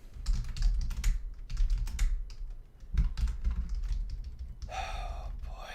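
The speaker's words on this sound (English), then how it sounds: "This freaking keyboard." Keys clatter on a computer keyboard in quick irregular bursts, close and fairly loud, with brief pauses between runs of typing.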